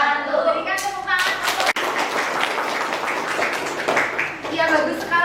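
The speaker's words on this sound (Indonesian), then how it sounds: "Berikan tepuk tangan." Classroom applause after a group presentation in an accounting and finance class, a short burst of clapping from a small group, close by and mixed with murmuring voices.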